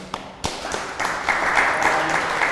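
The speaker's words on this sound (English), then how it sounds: "Let's give them a hand." Audience applause for a panel on drones at a tech meetup, a brief burst of clapping that swells after a few early claps and holds steady, fairly close.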